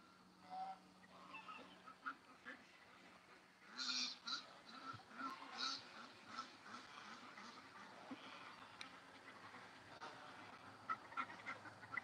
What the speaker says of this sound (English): Little ducks just playing in the water non-stop.